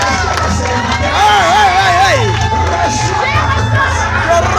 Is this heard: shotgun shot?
no